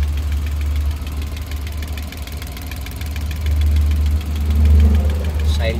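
Suzuki DA17 van engine running steadily at idle with a low, even rumble and faint ticking throughout, swelling slightly near the end.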